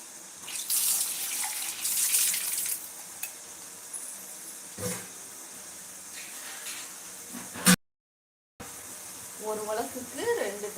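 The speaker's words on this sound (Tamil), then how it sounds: "டம்ளர் தண்ணி ஊற்றணும் நான் ஒரு டம்ளர் ஊற்றுறேன்" Water splashes and pours in bursts into a pot of biryani amid kitchen sizzling, with a voice speaking near the end.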